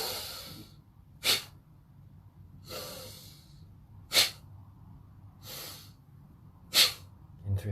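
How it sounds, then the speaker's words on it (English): Forceful breaths through the nose during a meditation, with sharp snort-like bursts every few seconds between longer airy breaths, close and steady in rhythm, with no talk. "deep breath in."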